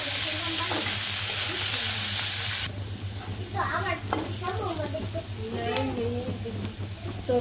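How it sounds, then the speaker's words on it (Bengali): Chopped onions sizzle and crackle in hot oil in a village kitchen pan, a steady bright frying hiss that drops quieter partway through, with a voice talking over it. "তো পেঁয়াজ ভাজি হয়ে গেছে"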